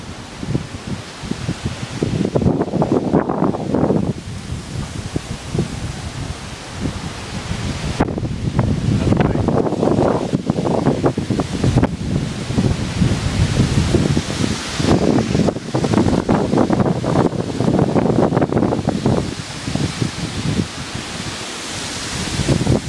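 Strong wind storm gusting through trees at a house in Tennessee, a loud, continuous rushing roar with surging gusts and rustling foliage, no voices.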